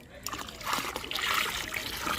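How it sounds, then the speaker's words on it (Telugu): Rice-washing water poured from a mug into garden plants, a short trickling and splashing stream that swells and continues to the end. "రవ్వ బియ్యం కడిగిన వాటర్ ఇదిగోండి ఈ మగ్గుతో ఒక మగ్గు తీసుకున్నాం అనుకోండి వాటర్ ఇదిగోండి"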